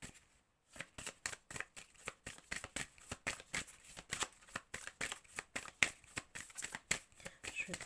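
Tarot cards are shuffled and handled up close, a quick run of soft, crisp flicks and slaps of card stock, fairly quiet, with no talking.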